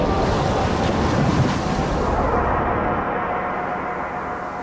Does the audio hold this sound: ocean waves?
yes